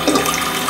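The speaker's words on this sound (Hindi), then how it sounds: "अब इसको पैन में पानी डालूंगी मैं" Water pours into a pan set on a gas stove to boil rice for dum biryani, a steady, close, rushing splash throughout.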